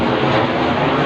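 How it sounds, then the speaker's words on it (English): Aircraft engines spooling up at Sydney airport at sunrise, a steady loud broadband roar filling the whole moment without pause, with no voices over it. "planes are starting up"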